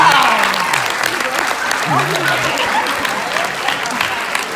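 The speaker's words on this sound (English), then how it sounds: "let's give him a big round of applause" Audience applause from a live stage hypnosis show crowd, a steady dense wash of clapping filling the whole stretch with faint voices mixed in.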